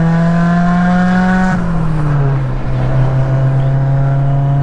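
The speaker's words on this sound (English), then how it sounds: "So we're test driving the Miata." A cheap Mazda Miata fitted with an aftermarket cam and new suspension on a test drive, its engine droning loud and steady from inside the car, the pitch holding, then dipping briefly and settling lower as the revs shift.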